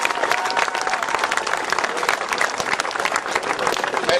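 Steady, dense applause from an audience at a football camp ceremony for an announced wide receiver, many hands clapping quickly and loudly with crowd murmur beneath, sustained without pause.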